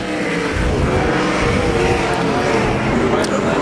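Sprint car racing on a dirt track at Arizona Speedway during a Desert Sprint Car heat race, with a loud, continuous engine roar and crowd-like wash throughout, and an announcer talking over it.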